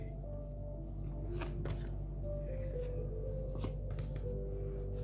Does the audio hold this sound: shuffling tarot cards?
yes